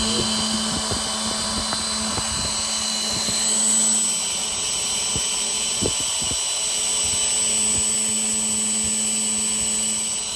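An 1806 1800kv brushless motor on a 3S 2200 battery pack runs at half throttle on a thrust test, giving a loud, steady, high whine with a constant buzzing drone and a few faint clicks.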